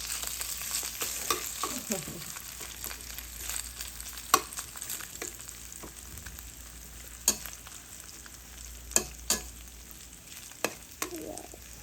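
Ham sizzles and fries in a pan with mixed vegetables, a steady crackle broken by sharp clinks and scrapes of a utensil stirring, with no talking.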